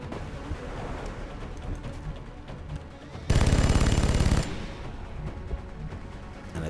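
A sustained burst of machine-gun suppression fire in XCOM: The Long War, loud and continuous for about a second, set against a busy bed of game ambience.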